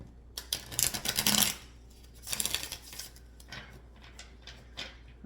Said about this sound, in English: I'm going to shuffle it a little bit again